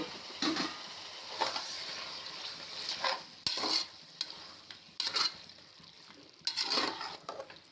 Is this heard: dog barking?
no